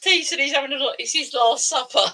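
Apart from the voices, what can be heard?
No distinct noise like a dog, phone or traffic.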